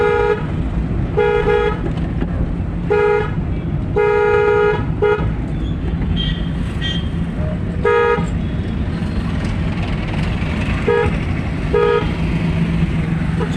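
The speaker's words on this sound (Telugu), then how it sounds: "హార్న్ ఎక్కువ కొట్టుకుంటా" Car horn sounding in repeated short toots, some in quick pairs, from a car driving through city traffic, over a steady engine and road rumble with a voice speaking at times.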